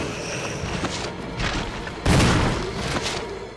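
A gunshot from Resident Evil Remastered: a loud, booming blast over steady game ambience, with a few smaller thuds around it.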